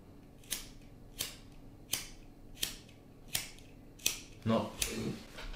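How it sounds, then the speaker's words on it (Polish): A small lighter is flicked about seven times at an even, steady pace to singe off unwanted hairs. Each flick is a sharp, close click, and the last few bring a brief rush of flame. "na pomoc przychodzi taka zapalniczka, która usunie nam wszystkie niepotrzebne włoski"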